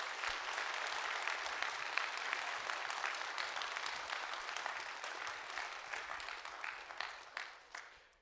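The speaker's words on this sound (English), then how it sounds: "So let's give them all a big round of applause." An audience at a livestock program final presentation at an agricultural college in Canada breaks into sustained applause, a dense crowd clapping that holds steady for several seconds before tapering off at the end.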